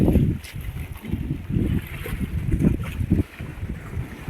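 Rough river waves churn and strong wind blows in the Sundarbans during Cyclone Remal, making a loud, close, surging rumble with gusty buffeting and no voices.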